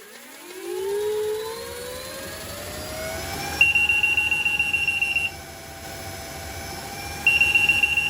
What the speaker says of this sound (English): so let's do a free spin